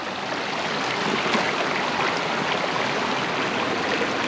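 Flowing river water along the Middle Fork of the Payette River in Idaho near hot springs, a broad steady rushing wash, close and continuous without voices.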